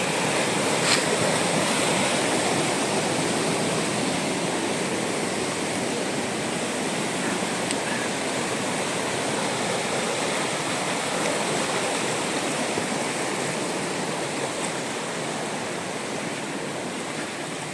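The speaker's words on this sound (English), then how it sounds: "Very white water." Rushing white water of a river in a rainy week pours in a dense, steady roar that fills the whole stretch without pause, loud and close, with no voices.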